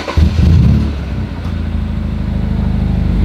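BMW four-cylinder car engine, already warm, cranking and catching with a loud low burst, then settling into a steady, throbbing idle close by, with no talk.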